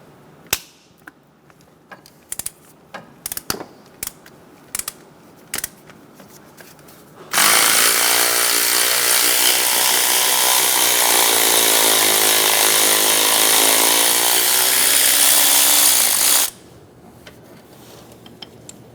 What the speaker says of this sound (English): Using a 14mm socket, remove the bolt for the idler pulley.